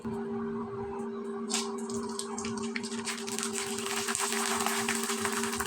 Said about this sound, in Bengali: এখন আপনাদের আমি তেলে ভেজে দেখিয়ে দিচ্ছি